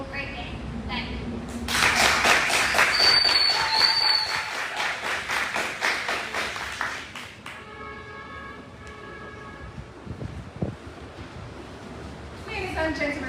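After a speech at a debate competition final, an audience breaks into applause that swells, holds, then thins out, with a voice talking over the tail end.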